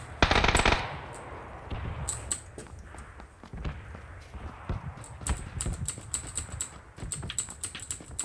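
Rapid bursts of video game gunfire crackle in sharp clusters, some loud near shots up front and many quicker, fainter volleys further off, scattered across the scene with no talk.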